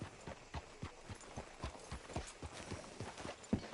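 Steady clip-clop of horse hooves in a video game, a quiet, even walking rhythm of soft thuds continuing throughout.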